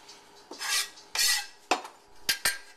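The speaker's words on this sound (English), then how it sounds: "I'm going to trim the edges off of this ginger root." A knife trims the edges off a ginger root, giving several short scraping cuts in an uneven rhythm, close and fairly loud, with no talking.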